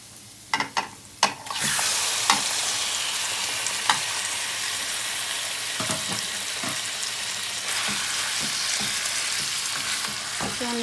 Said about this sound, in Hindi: अब हम इसमें चिकन को शामिल करते हैं।